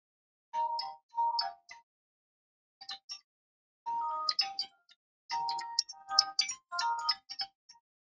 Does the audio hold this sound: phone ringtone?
yes